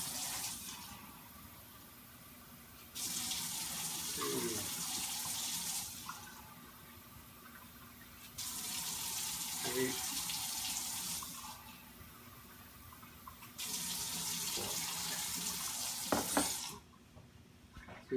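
Tap water runs into a measuring cup three separate times while water is measured out for cooking rice, each pour a steady hiss several seconds long with brief clinks in between.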